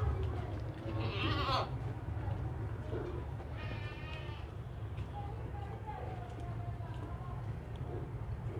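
A castrated goat offered for sacrifice bleats twice, loud and wavering, close by over a constant low rumble of background noise, with someone talking and more animal cries further off.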